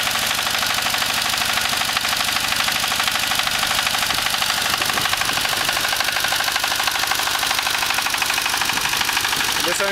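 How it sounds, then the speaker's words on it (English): An S1100 single-cylinder engine set up for vegetable oil combined heat and power runs at a steady 1500 RPM, giving a loud, continuous rapid thumping that stays even for the whole stretch. "This engine is set to run at 1500 RPM, which gives us approximately 5 kilowatts of electric power."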